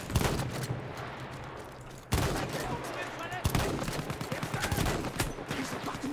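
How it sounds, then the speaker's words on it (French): Shotgun fire in the war video game Battlefield 1 sounds as dense, loud bursts of gunfire with sharp booming blasts layered over a background firefight, close and chaotic, briefly dropping before resuming. "Ok, j'ai un fusil à pompe."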